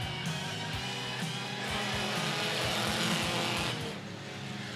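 Race cars roar away at a green flag start, a dense, loud engine drone with revving layered on top that holds steady and eases off slightly toward the end, with no talking.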